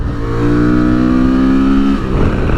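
Honda Transalp motorcycle engine revved hard while leaned over on the road, a loud, rising harmonic drone that climbs in pitch, then drops off into rushing wind and engine noise close to the rider.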